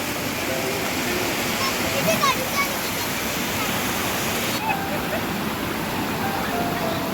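Zenith waterfall near Khopoli in the Konkan roars as a steady, dense rush of falling water with heavy rain, filling the whole stretch at an even level with only small bumps in loudness.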